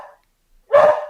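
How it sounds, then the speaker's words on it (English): A dog lets out a single loud, close bark after a faint brief yip, with silence between, heard at a live football watchalong for West Ham United versus Doncaster Rovers after a knock on the window. "That's why you could hear the dog barking."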